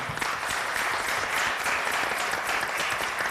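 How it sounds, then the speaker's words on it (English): A village board audience applauds the Officer of the Year, a police officer honoured at an award ceremony, with steady dense clapping that holds at an even level throughout. "How about a round of applause for him?"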